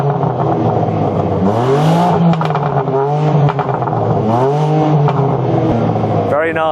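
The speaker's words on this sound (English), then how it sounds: "The M3 CS has a titanium back box for its exhaust for added fruitiness." A BMW M3 CS with a titanium exhaust back box is revved hard, the engine note climbing and dropping in two loud, close sweeps over a steady rumbling idle.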